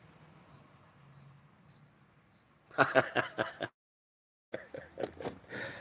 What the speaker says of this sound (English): I got a cricket going somewhere